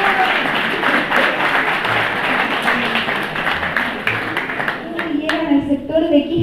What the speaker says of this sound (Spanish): El aplauso también para ellos.